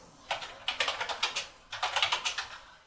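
Close computer keyboard keys clatter in two quick bursts of crisp clicks separated by a short pause, as a disk command is entered on a Lenovo ThinkCentre M90p SFF.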